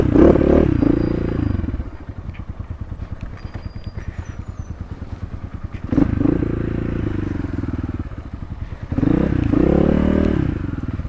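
A dirt bike rides along a muddy off-road trail near Baglung, its engine chugging steadily with rhythmic clatter, revving louder in surges at intervals.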